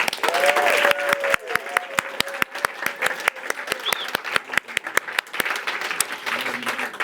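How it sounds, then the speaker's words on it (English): At an awards ceremony at a climate hackathon in Bratislava, a full audience breaks into sustained applause, dense and close, with a steady rhythmic clap beat running through it and a few voices rising above. "A round of applause, please."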